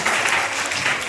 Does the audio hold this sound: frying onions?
no